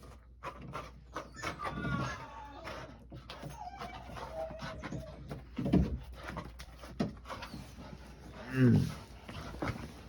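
A dog whimpers, whines and gives a couple of loud barks nearby, with intermittent vocal noise running through, while someone talks over it.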